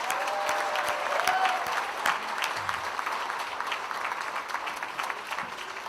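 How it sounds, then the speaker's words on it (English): Dense applause from an audience at a 25th anniversary celebration for a recycling and solid waste company, a sustained roomful of clapping with crowd murmur throughout. "Let's give him a round of applause."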